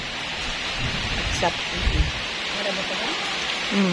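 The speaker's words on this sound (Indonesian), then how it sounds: "Hujan keras ini." Steady heavy rain hisses in the background as people talk briefly over it.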